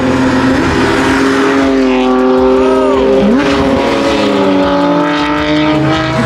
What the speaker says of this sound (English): That F80 sounds good.